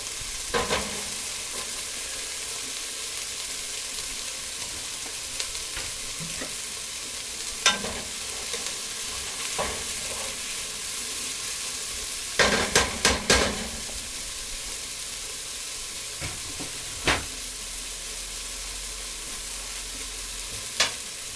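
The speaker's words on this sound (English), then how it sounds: "I don't think you can saute onions for 7 minutes without scorching them" Onions sauté in a pan, a continuous soft sizzle and hiss broken by repeated scraping and clattering stirring strokes, with clusters of clicks near the middle and no talk.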